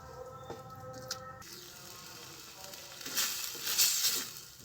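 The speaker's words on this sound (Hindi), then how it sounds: "धीमी धीमी आंच में इसे भूनेंगे हम, लगातार चलाते हुए" Grated ginger halwa roasts slowly over a low flame in a kadhai while it is stirred continuously, giving a soft sizzle with scraping stirs and a few light clinks that swell louder toward the end.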